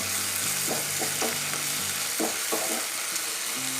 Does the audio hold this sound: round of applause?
no